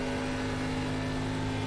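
ARCA race car at Indianapolis as the driver lifts off the throttle, a steady droning engine note with strong tonal harmonics heard from onboard, continuous and fairly close.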